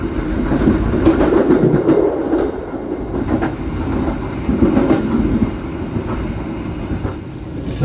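The Mutiara Timur night passenger train from Banyuwangi to Surabaya rolls along the rails, a loud, close rumble with rhythmic clickety-clack from the wheels that swells and eases across the stretch, with no voices.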